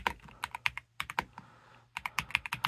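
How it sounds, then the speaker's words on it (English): Typing on a Redragon EISA K686 PRO SE mechanical keyboard produces close, crisp key clicks in quick irregular runs, broken by one brief pause, with no voice. "I'm just going to type for a second so you can hear the type sounds."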